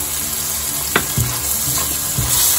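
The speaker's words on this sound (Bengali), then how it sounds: "1 মিনিটের মতো একটু লাল করে ভেজে নিব। হাই হিটে রান্না হবে" Chopped ginger and garlic sizzle steadily in hot oil over high heat for a Chinese vegetable curry, a dense continuous frying hiss broken by a few soft stirring knocks, close up and with no talk.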